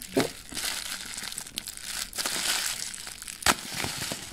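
The wrapping of a tightly packaged Princess Potion makeup base is worked open up close, giving quiet, irregular crinkling and crunching with a couple of sharper crackles.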